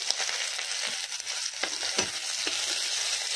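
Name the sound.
chopped onions frying in a pan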